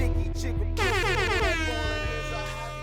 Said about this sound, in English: My wife told me I need to chill on the air horns